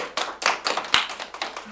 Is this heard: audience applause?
yes